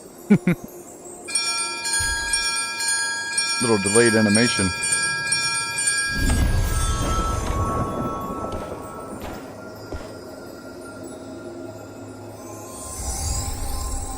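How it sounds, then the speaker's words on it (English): Earth Shaker bell being rung in Mistfall Hunter, a bright metallic clang that rings out and sustains for several seconds amid game sounds and footsteps, with someone talking briefly. "I'm trying to ring the bell."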